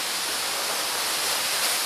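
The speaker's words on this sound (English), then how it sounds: "Oh, look, you can hear water." Steady rushing of running water at the Roman Baths in Bath, a constant broadband wash close by with no breaks or voices.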